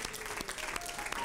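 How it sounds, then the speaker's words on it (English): A church congregation claps hands together at the close of a camp meeting service, a dense steady wash of applause filling the room throughout the short moment. "Clap your hands to the Lord one more time."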